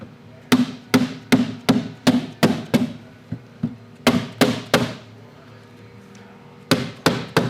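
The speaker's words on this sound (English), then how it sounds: "Now we're going to take a rubber mallet or a plastic mallet." A rubber or plastic mallet taps down an automotive glass channel onto the glass while setting tape, in three quick bursts of sharp, evenly spaced knocks, close and loud, with short pauses between the bursts.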